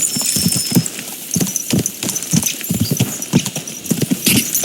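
Rapid, rhythmic hoofbeats of horses galloping in the video game Kingdom Come: Deliverance II, loud and close, with a steady clattering pattern continuing throughout.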